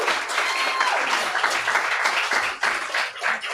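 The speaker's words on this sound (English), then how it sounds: "A round of applause again for all of our readers." Applause from the audience at a poetry reading series, steady and fairly loud clapping that carries through the whole stretch without letting up, with a brief dip near the end.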